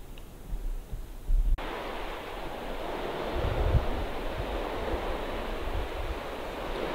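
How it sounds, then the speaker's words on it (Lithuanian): Calm sea waves on the Polish coast wash in a soft, continuous surf murmur mixed with wind rumble on the microphone, after a few brief handling knocks at the start. "Jūra labai rami šiandien."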